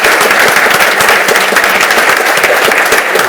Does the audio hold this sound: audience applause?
yes